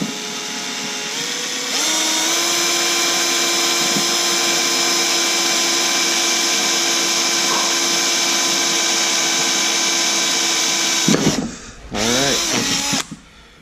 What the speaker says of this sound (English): Got the first hole drilled.